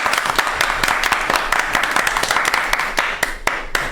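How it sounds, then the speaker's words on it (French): A crowd at a live show claps for a guest named Crevette. The claps are loud, distinct and irregular over a constant background hum. "Quand même, un tonnerre d'applaudissements pour Crevette."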